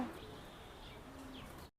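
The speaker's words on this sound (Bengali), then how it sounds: "এটা একটা মাদি, একটা ভালো বিটার কবুতর" Racing pigeons cooing softly, with low murmuring coos and faint chirps, distant and quiet, with no talk, before the sound cuts off.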